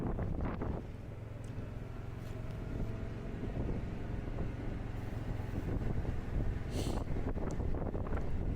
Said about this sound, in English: you can see in here how windy it is. The trees are blowing.